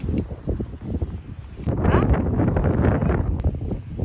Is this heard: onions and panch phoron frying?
no